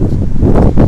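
Strong storm wind blowing outdoors in the dark, a loud continuous roar with gusting buffets that swell and dip across the short stretch, close to the microphone with no voices.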